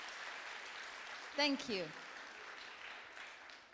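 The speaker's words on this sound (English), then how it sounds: "One more round of applause for Abdul Muqeet." An audience claps steadily for a young speaker at a Dubai talk event, a soft, continuous spatter of applause with a brief voice speaking over it partway through.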